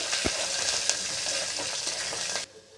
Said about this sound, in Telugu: బాగా ఫ్రై చేసుకోవాలి ఆనియన్స్ని.